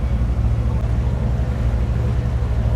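Loud, steady low rumble of a private boat's engine on the water in Dubai, droning continuously with a constant hum.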